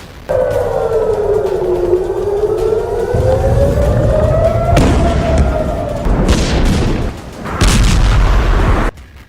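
Missile attack footage from Iran, with a wailing siren rising and falling throughout and heavy booms breaking in near the middle and end, loud and harsh.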